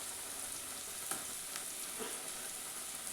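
Onions coated in ginger-garlic paste fry in a pan for a chicken dish, a soft continuous sizzle with occasional light stirring clicks, close and fairly quiet.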